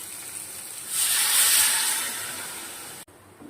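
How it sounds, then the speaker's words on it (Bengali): Water hits hot fried spice paste in a pan for Bengali aar fish jhal, bursting into a loud steady hiss and sizzle that slowly fades, then cuts off abruptly. "এবার জল দিয়ে দেবো"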